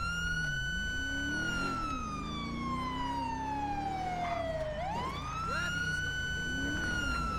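A police car siren in GTA V with the LSPDFR police mod, a loud, steady wailing tone that slowly sweeps down and then back up, heard close over engine and road noise, with no talking.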